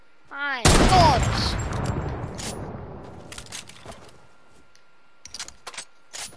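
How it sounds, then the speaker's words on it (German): A sniper rifle fires in the video game Fortnite: one loud, sharp shot with a long echoing decay, followed by a few faint clicks and rattles. "Da ist wieder jemand mit der Sniper."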